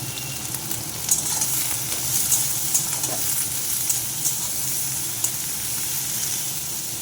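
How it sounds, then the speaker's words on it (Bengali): Eggplant fries in a covered pan with a steady, close sizzle and crackle that runs unbroken throughout, with a few sharper pops. "বেগুনটা আমি একটু ঢেকে দিলাম, ভালো করে ভাজা হোক।"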